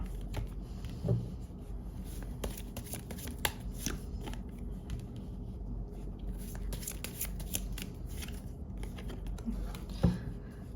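Tarot cards are shuffled close by with a continuous soft riffling and patter, and a few sharper slaps and snaps stand out along the way.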